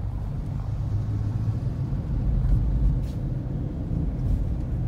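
A car engine rumbles low and steady while the vehicle drives on a slope, with the drone swelling slightly midway and no voices.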